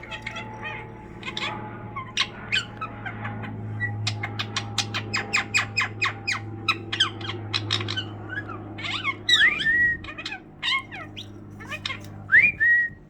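Pee Wee, a pet budgie, whistling indoors: a rapid series of sharp chirps and trills, followed by a few rising whistled swoops, close and clear over a low background hum.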